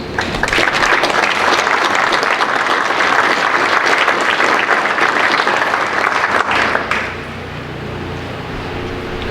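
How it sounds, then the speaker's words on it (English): A round of applause at a Seneca Falls town board meeting: brisk, full clapping from the room that holds steady for several seconds, then drops away to quiet room tone. "So I think they all earn a round of applause."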